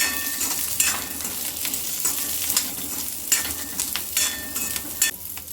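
Grated coconut and roasted gram stir and sizzle in a hot pan for chutney, a steady close crackle broken by the scrape of a spatula.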